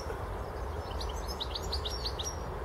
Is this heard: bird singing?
yes